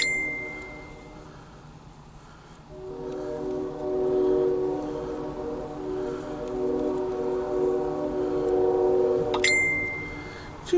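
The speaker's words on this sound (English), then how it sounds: "After this train passes." A CSX Q136 eastbound mixed freight train rolls past with a steady, moderately loud rumble and sustained metallic ringing tones, plus brief bell-like pings near the end.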